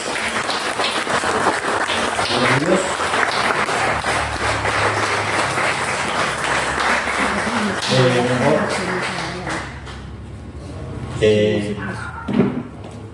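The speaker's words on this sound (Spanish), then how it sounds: "Le doy un aplauso al Rey de Reyes" Applause at a church worship gathering, dense clapping under a voice that speaks throughout. It fades near the end as talk and clattering take over.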